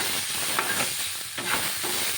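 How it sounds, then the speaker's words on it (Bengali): Finely sliced spiny gourd (kakrol) and potato frying in a little oil tempered with black cumin, a steady close hiss of sizzling with intermittent scraping stirs of a spatula in the pan, no voices. "কালো জিরে ফোড়ন দিয়ে এই ভাজাটা করে নিয়ে লাল লাল করে ভেজে নিতে হবে"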